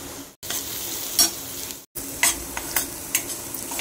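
Sukka mutton masala with red chili powder sizzles as it is sautéed and stirred in a pan, with scraping strokes breaking the steady frying hiss and two brief silent gaps.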